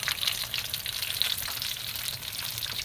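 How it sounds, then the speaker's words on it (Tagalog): Eggplant fries in a pan with a dense, steady crackling sizzle, close and continuous with no pauses. "Ayan, magpiprito po kami ng talong."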